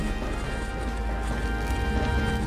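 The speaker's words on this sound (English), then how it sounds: "That's what Siri named her mare. Another horse, almost exactly like the last one" A horse, a mare in The Witcher 3 video game, makes rhythmic clip-clop hoof sounds, steady and fairly close, with no talk over it.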